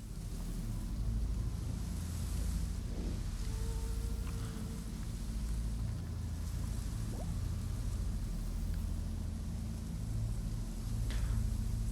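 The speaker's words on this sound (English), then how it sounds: "You can hear water behind the wall." Water rushing behind a stone wall inside a tomb in the video game Wartales: a steady, muffled low roar that stays constant throughout, with a few faint clicks and tones over it.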